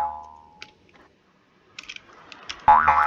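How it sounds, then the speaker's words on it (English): A homemade platformer game plays a short springy boing effect near the end, a wobbling tone after a few faint ticks and clicks, close and clean with no talking. "do you like the little spring sound effect?"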